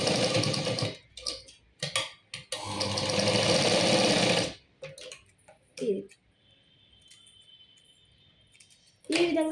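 A sewing machine stitches a lehenga dori in one loud, close whirring run of several seconds, broken by short pauses, then gives way to quiet handling clicks and a brief voice.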